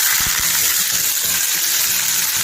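Oil frying steadily in a kadai, likely with sliced ingredients browning for a Godavari-style cheeramenu fish curry, a continuous broad sizzle with faint low knocks underneath.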